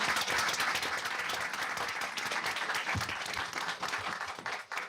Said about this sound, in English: Can we have a round of applause for this?